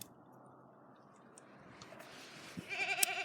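A farm goat bleats near the end, a short rising call over quiet farmyard background after a calm stretch.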